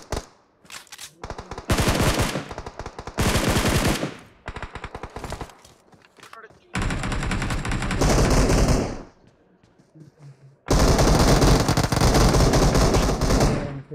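Loud automatic gunfire from a video game, several long sustained bursts of rapid shots separated by short quiet gaps, close and dominating the scene.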